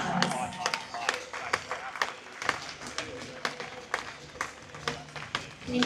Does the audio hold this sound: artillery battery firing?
no